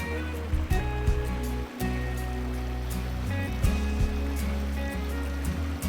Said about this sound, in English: the locals do their washing the old way, by the stream